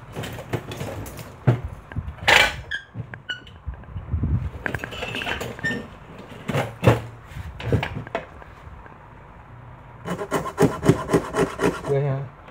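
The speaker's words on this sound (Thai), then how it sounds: "ทีนี้เราก็จะเลื่อยตามเส้นนอกนี่นะครับ" Hand saw cutting along the outer line of an acrylic amulet frame, a close series of scraping, rasping strokes with uneven rhythm and a few sharp clinks, growing denser toward the end.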